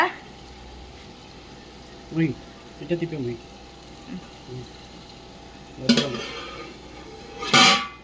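A metal lid clanks onto a pot of mutton biryani cooking over a village wood fire, with a few sharp clatters scattered across a quiet background.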